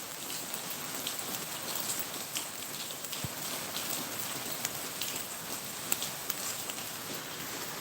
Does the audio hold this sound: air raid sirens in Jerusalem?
no